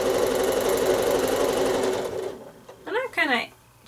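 A sewing machine free-motion quilting a garden maze pattern hums in a loud, steady rapid stitching drone for about two seconds, then stops and someone speaks briefly.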